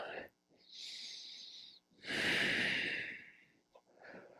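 Deep, audible breaths drawn in and pushed out through the nose during a yoga pose, close and breathy, alternating in long inhales and exhales with brief pauses between.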